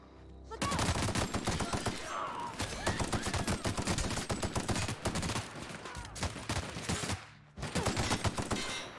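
Rapid automatic gunfire from a weapon in The Outer Worlds, dense loud bursts firing almost continuously for several seconds with brief pauses, close and dominant in the mix.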